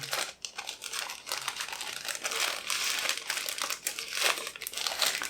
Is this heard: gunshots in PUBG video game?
no